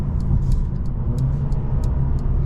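A 2023 Mercedes CLA 250's 2.0-litre turbocharged engine rumbles deep and steady at close range, a low, smooth drone with light ticking above it.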